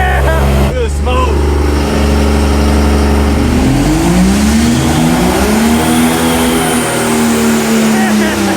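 A truck engine fitted with 17 turbochargers revs hard and loud and close, its roar rising and falling while turbo whine climbs as it builds boost, with excited voices shouting over it.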